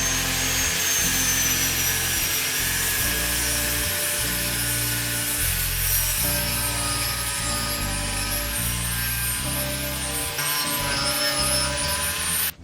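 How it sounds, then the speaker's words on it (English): An angle grinder fitted with a flat pad grinding inside a catamaran sailboat cabin, a loud continuous whirring rasp that shifts in pitch and pressure as the pad is worked across the surface. "I've got an angle grinder with a flat pad."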